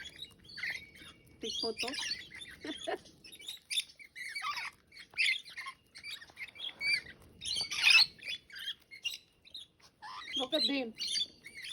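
Wild birds at Wonboyn cabin park in New South Wales chirp and squawk close by in scattered bursts, with a person talking between and over the calls.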